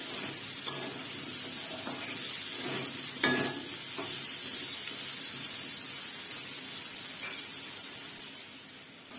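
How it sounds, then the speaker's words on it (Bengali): Potatoes frying in white vegetable oil give a steady, even sizzle throughout, close up, with a few brief clinks and stirring scrapes from the pan. "আমার আলুটা ভাজা হয়ে গেছে"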